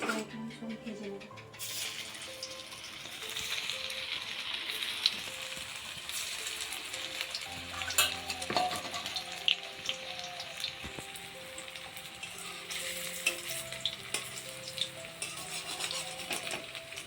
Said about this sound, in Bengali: তেলটা গরম হয়ে গেছে, একে একে সব ভেজে নেব।